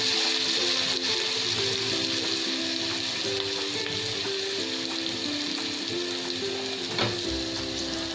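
Ginger, garlic and green chilli paste sizzles steadily in a pan over a medium flame for vada pav, a continuous close frying hiss with faint tonal sounds in the background.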